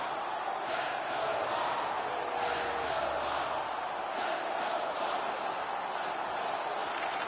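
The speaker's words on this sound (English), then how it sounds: "The home crowd is ecstatic." Home crowd at an NHL ice hockey playoff game, Winnipeg Jets at Chicago Blackhawks, roaring after a fight: a dense, steady wash of cheering and shouting filling the arena, with a commentator's voice over it.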